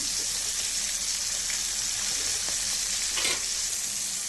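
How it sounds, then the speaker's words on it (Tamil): Prawns frying in a pan give a loud, dense, continuous sizzle like heavy rain, with a few brief scraping stirs on top. "இது கொஞ்சம் லைட்டாக பொறிஞ்சு வச்சு பார்க்கலாம் ஒரு பக்கத்து வந்துட்டு நம்ம திருப்பி போட்டுக்கலாம்"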